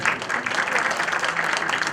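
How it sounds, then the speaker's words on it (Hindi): An auditorium audience at a singing event claps loudly and steadily for a woman who has just sung, a dense, even roar of applause with no voice over it. "जरा जोरदार तालियां हो जाएं"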